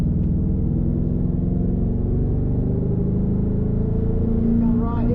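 Ford Mustang on The Bend West Circuit, its engine droning loud and continuous as it pulls back onto power, with a voice talking over it.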